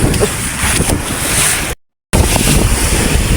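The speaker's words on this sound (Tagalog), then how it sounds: "Ramdam ko ang lakas ng alon dito sa unahan." Strong ocean waves crash and rush against the front of a boat at sea, loud and close with heavy wind buffeting the microphone, broken by a brief dropout.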